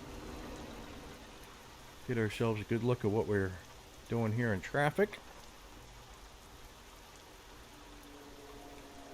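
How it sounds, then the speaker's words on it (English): Steady rain patters on a truck in American Truck Simulator while it sits at a stop sign, the constant hiss running the whole time beneath a voice talking in two short bursts. "It is raining pretty good, but I don't think it's raining fast enough for the high-speed wipers"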